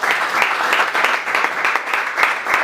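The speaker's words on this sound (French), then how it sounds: "que je demande d'applaudir encore." Audience applause for party moral authority comrade Jacques Kiabula Katwe: steady, dense clapping from a crowd, sustained and fairly loud throughout with rhythmic surges.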